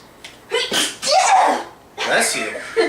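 A single sudden sneeze bursts out near the start during a tabletop role-playing game session, followed by brief voices and a short chuckle.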